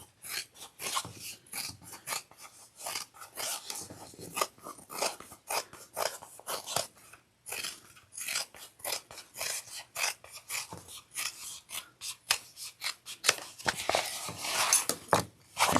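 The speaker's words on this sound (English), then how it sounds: "I'm just going to trim this up real quick." Scissors snip and crunch through bag material for a crossbody bag in a rapid, irregular run of close cuts, with no voices.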